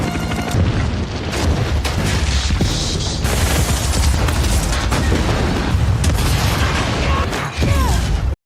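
Locker explosion in an action film about a hacker agent, a sustained barrage of loud booms and blasts with rumbling debris, dense and continuous throughout.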